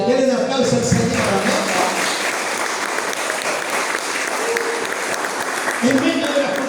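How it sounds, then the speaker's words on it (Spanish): A church congregation gives sustained, loud applause, a dense continuous wash of clapping that runs throughout, with a voice speaking over it at times. "Denle un aplauso al Señor."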